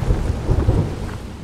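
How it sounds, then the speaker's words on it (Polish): Thunderstorm in the horror game Outlast 2, a deep rumble of thunder rolling over steady rain, loud and close in a brief burst. "Co to za burza?"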